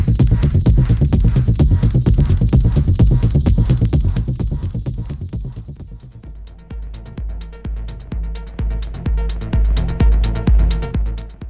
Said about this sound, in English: Where tracks are sort of being faded out from one into other.